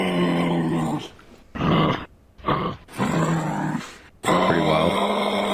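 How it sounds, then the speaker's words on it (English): An animal growl resembling a dog's, deep rumbling bursts broken by short pauses, loud and close, with no talk over it. "almost like kind of like a dog's growl or something."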